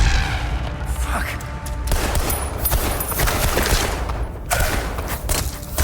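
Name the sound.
gunfire in video game Hell Is Us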